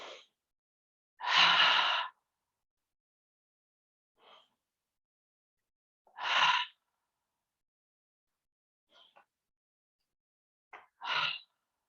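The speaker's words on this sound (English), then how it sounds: "let's do 2 or 3 cleansing breaths, breathing in through the nose and out through an open mouth" Guided cleansing breaths during a gentle chair yoga session, drawn in through the nose and let out through an open mouth: three full, airy exhales spaced a few seconds apart, with softer inhales between, close and quiet, with no talking.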